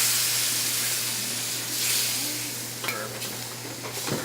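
Sherry wine (jerez) added to a paella pan on the heat gives a steady sizzle and hiss, with a steam-like rush mid-clip and light stirring scrapes near the end, heard alone without talk.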